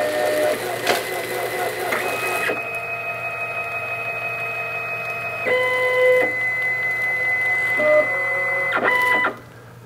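The flush mechanism of a Wrappon Trekker portable toilet runs with a steady mechanical whir and shifting motor tones, like a printer or cash machine, for about nine seconds before stopping abruptly, close and fairly loud.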